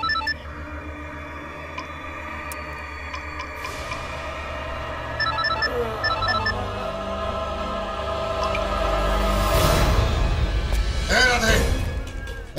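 In a Bhojpuri romantic film, a telephone rings on and on without being answered, its repeated tones sounding over a busy background that swells louder toward the end.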